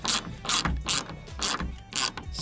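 A hand ratchet tightens bolts on the rear door actuator of an F-150 pickup, sounding as a run of about five quick, close rhythmic clicking bursts with brief pauses between them.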